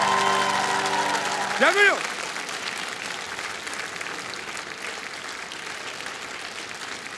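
A concert hall audience claps after a comedic song, a broad steady wash of applause that starts loud and gradually thins, with a brief sung or spoken voice rising over it near the start.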